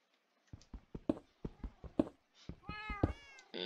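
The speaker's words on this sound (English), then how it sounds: "There's so much cats." Video game cats give a rapid series of short, close meows, a dozen or so in quick succession, with a few longer, drawn-out cries near the end.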